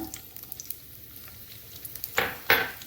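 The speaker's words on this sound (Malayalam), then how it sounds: "വെളിച്ചെണ്ണ ചൂടായിക്കൊണ്ടിരിക്കണു അതിലേക്ക് ഞാൻ ആദ്യം ചുവന്നുള്ളി അരിഞ്ഞു വെച്ചത് ആഡ് ചെയ്യാണ്" Chopped red shallots dropped into hot coconut oil in a pan, a soft steady sizzle with scattered pops and two louder bursts of frying near the end as the pan is stirred.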